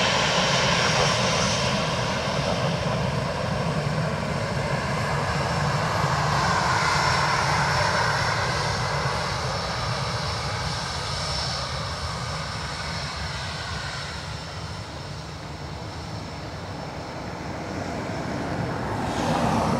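Ryanair airliner from Beauvais at Dublin Airport, its engine roar loud and close at the start, easing off through the middle, then building again toward the end as a continuous jet rumble with no voices.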